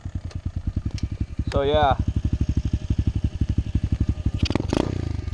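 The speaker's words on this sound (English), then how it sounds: "We're gonna warm up the bike, we're gonna take it for a ride." SSR 125 pit bike engine warming up at idle, with a steady, rapid loud thumping pulse close by throughout, while a person talks briefly over it.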